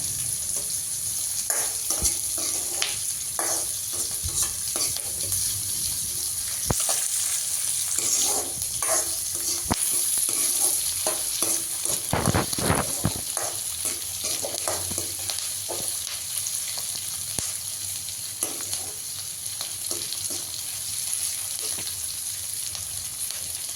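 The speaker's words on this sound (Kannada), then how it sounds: "ಹಸಿಮೆಣ್ಸಿನ್ಕಾಯಿ ಹಾಕ್ತಾಯಿದ್ದೀನಿ. ಎಲ್ಲ ಫ್ರೈ ಮಾಡ್ತಾಯಿದ್ದೀನಿ" Green chillies sizzle steadily in a hot pan for masala sambar, a continuous bright crackle with scattered spoon scrapes and clicks of stirring throughout, heard close with no voices.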